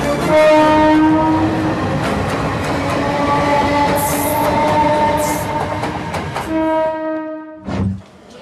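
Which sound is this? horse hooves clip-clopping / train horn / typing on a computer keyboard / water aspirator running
train horn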